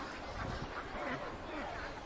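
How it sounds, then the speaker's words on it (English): Ducks quack near the bottom of a waterfall on a mountain in Korea, a few faint nasal calls over a constant rush of falling water. "there are ducks here. If you guys are wondering what's making that sound."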